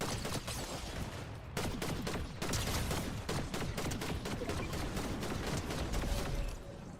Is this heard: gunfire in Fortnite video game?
yes